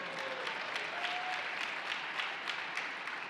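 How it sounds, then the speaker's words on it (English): Faint, distant audience applause at a SharePoint keynote, a thin steady patter of scattered claps with a few sharper individual hits, heard quietly throughout. "You can clap."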